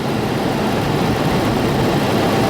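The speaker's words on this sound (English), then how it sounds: "You get the engine running, turn the inverter on." Idling vehicle engine runs with a power inverter switched on, a steady, loud low rumble that holds constant throughout with no talk.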